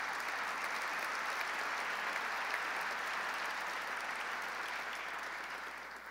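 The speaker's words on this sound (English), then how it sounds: "let's give Pat Foy a round of applause as the new chairman" Luncheon crowd at the ABNY event gives sustained, even applause for Pat Foy as new MTA chairman, a broad wash of clapping from many hands that eases off at the end.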